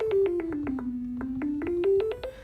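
A Zap Bass synth preset played from Push in Ableton Live gives a rapid run of short, punchy zapping bass notes. The pitch bends down and then climbs back up, with no other sounds around it.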